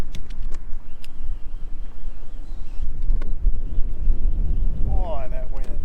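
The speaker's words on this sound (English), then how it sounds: "Now, I don't mind fishing in the wind, but this is ridiculous wind here." Heavy wind batters the microphone on Lake Lanier, a loud, constant rumbling buffet with gusty surges, while someone talks over it.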